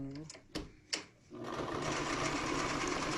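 A sewing machine stitching the edge of a Shark steam mop replacement pad: a couple of short needle thumps, then a steady, continuous machine whir running close and loud, with a person talking over the start.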